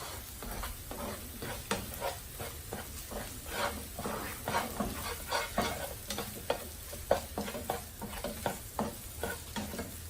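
A spoon stirs and breaks an egg omelette into small pieces in a hot pan, giving steady scraping and sizzling with repeated close clinks and scrapes throughout.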